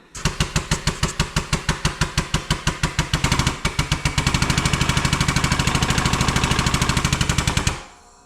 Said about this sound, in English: Now we'll press the bearing on.